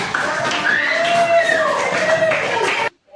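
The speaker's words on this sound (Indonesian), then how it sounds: "Oke, kasih tepuk tangan dulu." Classroom students clap together in a steady, dense burst, mixed with a few raised voices, before it cuts off to near silence.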